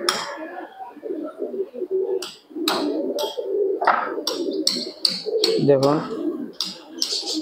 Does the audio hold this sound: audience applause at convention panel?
no